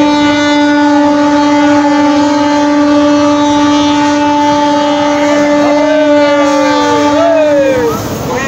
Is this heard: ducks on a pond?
no